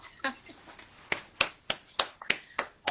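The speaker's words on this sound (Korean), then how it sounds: "제가 김종성 대표님한테 박수를 쳐주고 싶어요" Clapping at a Monday health class lecture, a handful of sharp, distinct claps in a loose rhythm, close by, after a brief murmur at the start.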